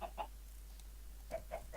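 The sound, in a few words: chickens clucking in video game Minecraft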